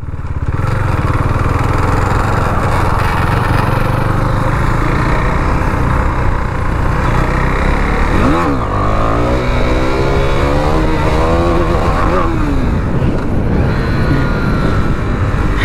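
A KTM Duke motorcycle engine revs hard during a wheelie ride, loud and continuous throughout. The pitch climbs and falls in steep sweeps through the gears near the middle and again toward the end, with no voices.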